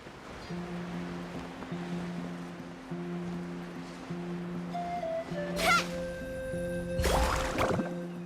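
A character surfs across waves in Genshin Impact, with steady water and surf wash under game music, then two bright splashing swooshes toward the end.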